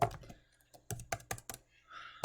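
A computer keyboard clatters in short, uneven bursts of keystrokes with brief pauses between them, close and fairly crisp.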